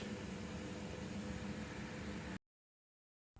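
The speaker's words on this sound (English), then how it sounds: "You can probably hear there's an air conditioner in the background." An air conditioner hums steadily in the background while soap is being made, a constant broadband whir with a low rumble that runs alone for a couple of seconds before cutting to silence.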